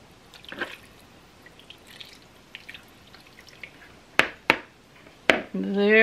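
A liquid mixture is poured over onions and browned hamburger in a cooking pot, with soft splashes and drips, then a few sharp clinks and a burst of pouring near the end. Faint talk is heard in the background.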